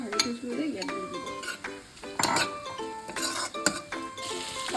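Fried octopus tipped into a pan and stirred, with a sizzle under repeated clinks and scrapes of a utensil against the pan at close range; a voice murmurs in the background.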